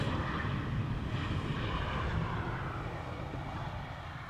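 An airplane passing near Schiphol Airport toward Haarlem or Zandvoort, heard as a soft, distant engine rumble mixed with wind buffeting that slowly fades, with no talking.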